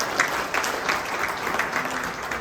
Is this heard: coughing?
no